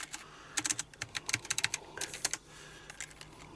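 Typing on a Logitech G915 keyboard with non-clicky switches, UK layout: a quick irregular run of soft, close keystrokes that slows into a few scattered taps near the end, with no talk.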